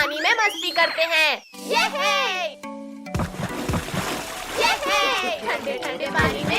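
Animated cartoon characters splash and play in water while cheerful childlike voices talk over the sloshing. The splashing grows busier in the second half.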